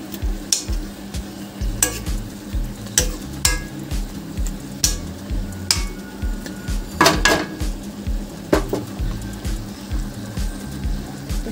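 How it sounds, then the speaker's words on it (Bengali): Jute greens are stirred in water in a metal pot: rhythmic scraping and knocking strokes repeat every second or so over a low bubbling hiss, close and moderately loud. "শাকটাকে একটু নাড়িয়ে দেবো যাতে ভালো করে জলের মধ্যে ডুবে যায়"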